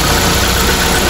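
A vehicle engine idles steadily after a servo adjustment, raised idle speed giving a loud, continuous mid-pitched rumble with slight vibration and no break throughout.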